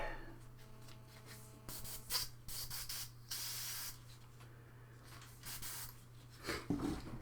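An airbrush sprays paint onto a Warcry miniature, giving short bursts of airy hiss that start and stop over a steady low hum.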